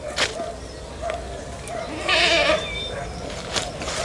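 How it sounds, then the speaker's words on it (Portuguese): Goats bleat close by on a farm with a goat pool, with a loud drawn-out bleat in the middle and shorter calls around it over a low background. "Olha o bode, velho."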